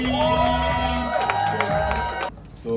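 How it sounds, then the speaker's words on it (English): An audience at a spoken-word poetry event cheers and whoops loudly for a poet, a dense burst of crowd shouting with some clapping that dies away near the end. "Everyone give a round of applause for Aaron"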